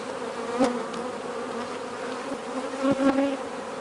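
Honeybees buzz steadily in an open hive that has grown through winter, a close, continuous drone with a few louder swells from bees passing near.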